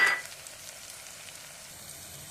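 Shallots sizzle and fry in a hot pan, a steady soft crackle after a brief louder burst at the start, with no voices.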